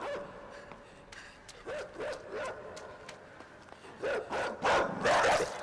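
A dog in the side-scrolling game INSIDE barks repeatedly as it runs, the short yelps spaced out at first and then quickening into a louder, denser burst near the end.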